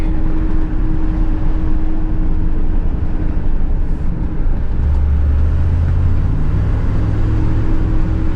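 A 1993 Chevy Silverado K3500 with a 7.4L engine drones along at steady speed, a loud, close, continuous low rumble with road noise, and the pitch deepens slightly toward the end.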